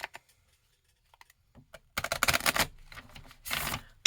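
Playing cards being shuffled by hand, a few light ticks followed by two quick riffling bursts close by, with no talking.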